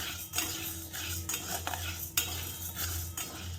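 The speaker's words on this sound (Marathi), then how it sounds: "आपण इथं साबुदाणा घेतलाय मी छान भाजून घ्यायचा" Sabudana (sago pearls) dry roasting in a pan on a home kitchen stove, heard as steady scraping and rattling of a stirring spoon with periodic louder strokes and a faint hum underneath.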